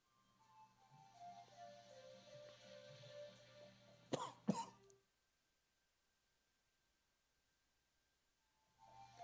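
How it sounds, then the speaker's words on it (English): Two sharp coughs from a man close to the microphone, cutting across soft background music, followed by near silence before the music returns faintly. "I didn't mean to cough"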